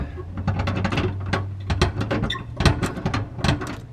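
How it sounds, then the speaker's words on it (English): Pliers grip and turn the top nut on a ceramic sauna heater, giving close, rapid metallic clicks and scraping ticks in irregular bursts over a low steady hum. "take your pliers here and just loosen this top nut up"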